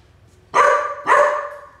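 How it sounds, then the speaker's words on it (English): A dog gives two sharp barks about half a second apart, loud and close, in a quiet indoor space during a trust-building session. "just deter the barking."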